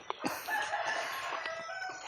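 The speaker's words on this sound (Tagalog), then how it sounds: "Mga manok." A flock of farm chickens clucks and crows together at moderate distance, in an overlapping chorus. There are no voices.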